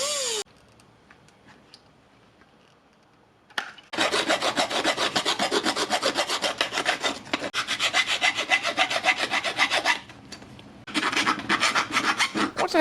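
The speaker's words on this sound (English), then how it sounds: "and then a lot of filing work" Metal file rasping across the aluminum eye guard of a handmade viking helm, long steady back-and-forth strokes close up after a quiet start, with a short pause before the final run of filing.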